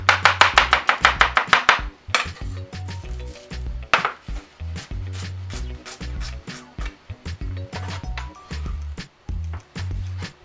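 Onions being chopped with a knife on a board for a pork BBQ steamed bun filling: rapid close knocks at first, then steadier individual chops continuing throughout, with no talking.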